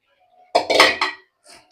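Chopped potatoes tumble into a pot of liver curry, a short clattering burst of pieces knocking against the metal, followed by a faint clink, in an otherwise quiet kitchen.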